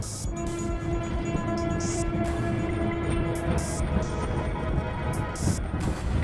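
A train arriving at a railway station rumbles steadily nearby, with a long sustained horn tone and bursts of hissing brake noise over the heavy low roar.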